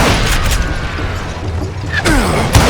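Loud, close gunfire booms in the Wild West shooter Call of Juarez: Gunslinger, with bursts at the start and end over a constant dense game soundscape.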